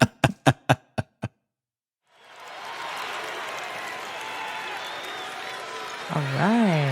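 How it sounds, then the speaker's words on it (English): A large crowd at a NASCAR Cup Series race roars and applauds as a broad, steady wash of cheering noise that swells in after a pause, with a voice rising briefly near the end. "Listen to that crowd."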